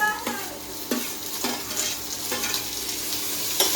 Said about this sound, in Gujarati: હવે આપણે એમાં ટમેટા અને ડુંગળી નાખી દઈએ.